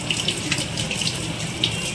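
A kitchen tap runs in a steady, close rush while crabs are scrubbed with a toothbrush under the stream, and faint brushing clicks are mixed into the water.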